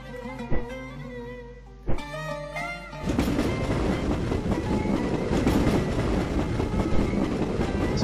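A train in the Ottoman Empire strategy game Pride of Nations plays as a game sound, with a few sharp tonal hits first, then a steady rumbling clatter of rolling wagons that continues to the end.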